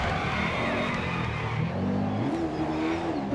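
Racing car engine droning steadily at Nürburgring GP in a racing video game's practice mode, pitch rising and falling with revs, loud and continuous without any talk.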